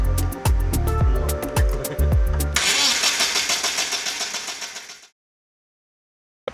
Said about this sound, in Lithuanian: Deja, variklis neužsikūrė